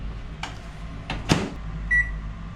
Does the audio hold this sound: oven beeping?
yes